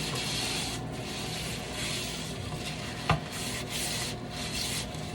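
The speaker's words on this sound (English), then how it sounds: "actually try to scrub it, guys. Using the scrubber." Scrubber working Dollar Tree cleaning paste over a surface, a steady broad rubbing texture pulsing in slow back-and-forth strokes at close range, with one brief sharp knock midway and no talking.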